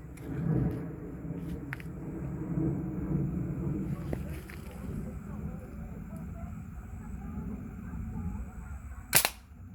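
A single sharp shot from a hand-pump 8 mm air gun or fishing speargun, fired at about ten metres, cracks near the end after quiet outdoor background and someone speaking.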